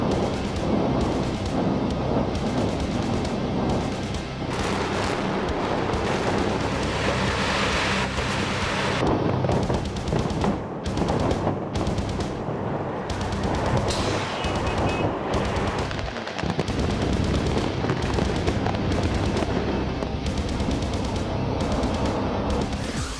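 Explosives bring down an eight-story building in a controlled demolition, a sustained, loud roar of collapsing concrete and rumbling debris that thunders on with scattered cracks and bursts throughout.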